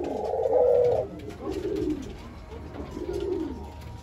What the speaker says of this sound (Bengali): মেলটা ফিমেলটাকে ডাকতেছিল